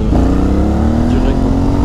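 An Aprilia Shiver 900 motorcycle engine revs up sharply on a blip of throttle, its pitch climbing steadily, loud and close throughout.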